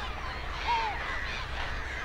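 A single short bird call rises above a dense wash of distant bird chatter from thousands of birds at a large European landfill, with background noise.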